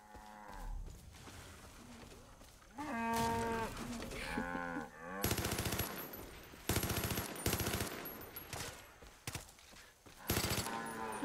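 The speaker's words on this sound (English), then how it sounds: "We need to locate the cows and return them to the place here." Cattle mooing in Far Cry 5, several loud, drawn-out moos from nearby cows, broken up by bursts of rapid machine-gun fire from the game.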